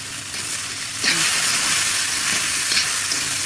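Kochur loti, taro stolons, being stirred in a frying pan, giving a continuous hissing sizzle that swells slightly as the pieces are moved around, with faint scraping.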